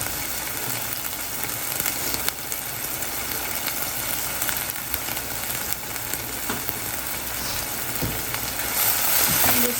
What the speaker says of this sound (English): And just stir this all together, just so the pasta won't be so plain.